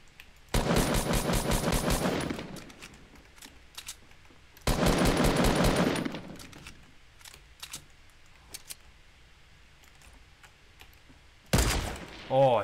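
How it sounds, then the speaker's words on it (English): Two sustained bursts of rapid automatic gunfire from an enemy player in the Fortnite battle royale game, each lasting about two seconds, then scattered faint shots and a short loud burst near the end. "That man was firing at me."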